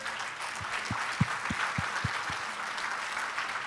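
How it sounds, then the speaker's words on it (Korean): An audience at a medical mission conference applauds to welcome a speaker, a steady wash of clapping across the hall with a few distinct nearby claps standing out. "나오실 때 우리 큰 박수로 우리 환영해 주시면 감사하겠습니다"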